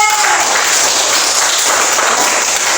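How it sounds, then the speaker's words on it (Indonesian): Classmates applaud a student in a school lesson, a loud, even burst of many hands clapping together without a break. "tepuk tangan juga untuk Angel"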